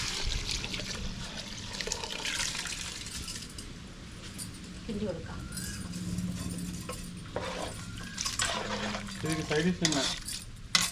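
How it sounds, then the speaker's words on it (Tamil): Water poured and stirred into rice and lentils in a pot, giving splashing, trickling and scraping sounds at close range with occasional clinks, under a voice. "தேவையான அளவு தண்ணியை எடுத்துட்டேன் அப்படி சேர்த்து வச்சுருவோம்"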